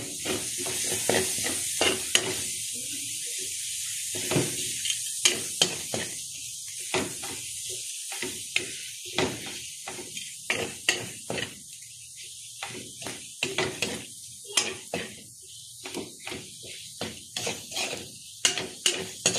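Garlic, onion and tomato sautéing in a pan for an ampalaya dish, with a steady close sizzle broken by repeated sharp scraping and stirring clatters of a utensil against the pan.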